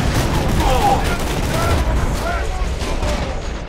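Shotgun fire in Borderlands 2, mixed into a steady loud wash of combat noise with booming blasts and a voice talking over it.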